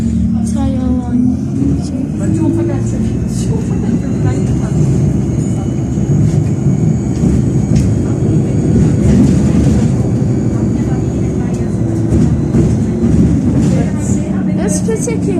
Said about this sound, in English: This particularly sounds like an Enviro 200.